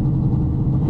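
Old 2.3-litre Ford Ranger daily driver at Bunker Hill drag strip, a steady low engine rumble heard alone, loud and sustained without any clear rise in revs.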